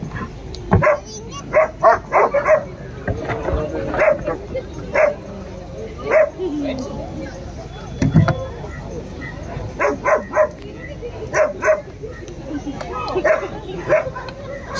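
A Belgian Malinois barks in repeated sharp bursts and yips during attack training, loud and close, with someone talking in between and over the barking.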